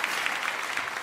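A Korean church congregation bursts into sustained applause of thanks at a New Year's Eve worship service, dense steady clapping filling the room without pause.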